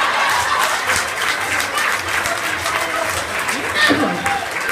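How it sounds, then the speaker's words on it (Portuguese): Audience applause at a stand-up comedy show, a loud, continuous burst of clapping from the crowd that holds steady throughout, with some voices mixed in. "uma salva de palmas para quem concorda comigo"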